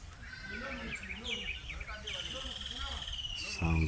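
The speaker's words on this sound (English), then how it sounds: "Sounds of the kingfisher, pied kingfisher bird." Pied kingfisher calls: repeated high chirps and trills over a busy outdoor background of insects and other birds, moderately loud, with a faint voice in the mix.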